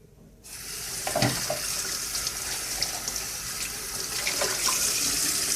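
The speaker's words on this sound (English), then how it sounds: "Okay, water on." A kitchen tap runs steadily into a sink while parts of a Kuvings Silent Juicer are rinsed, a constant close splashing rush that starts abruptly and continues alone.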